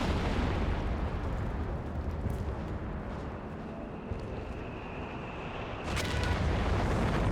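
Allied artillery fire in the Company of Heroes 3 strategy game, a 4v4 match on a battlefield, rumbling as a dense, continuous low wash of distant bombardment with a sharper burst near the end.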